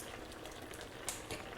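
Goulash with pasta cooked right in the sauce simmers in a covered pot, giving a faint, continuous bubbling with a couple of slightly sharper pops near the end.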